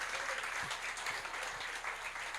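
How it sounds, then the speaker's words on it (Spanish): A church congregation claps together in a steady, dense burst of applause that lasts throughout, moderately loud and even, with no speech over it. "Dale a Dios ese fuerte aplauso"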